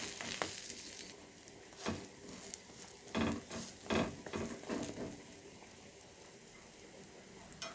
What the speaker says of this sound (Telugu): ఇది మంచిగా ఫ్రై అయ్యే వరకు టూ సైడ్స్ మంచిగా ఇట్లా ఫ్రై చేసుకుంటా